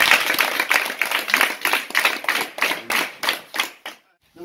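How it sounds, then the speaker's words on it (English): An audience claps together indoors at a Catholic compound event in Imo State, a steady run of close, loud handclaps that thins out and stops near the end. "Can you clap for Father?"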